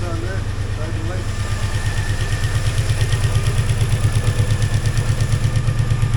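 A 2003 Mini Cooper engine idling steadily with a low, even rumble and a rapid pulsing throb, loud and close, running alone without talk over it.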